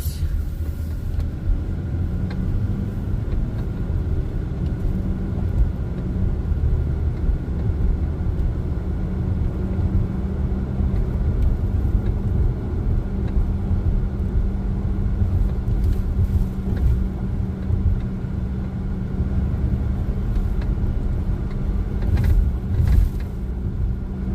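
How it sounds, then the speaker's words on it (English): A Ford Mustang's engine drones steadily for a long stretch, a low continuous rumble with little change in pitch and no talking over it. "Come on, car. Gosh dang it, Mustang."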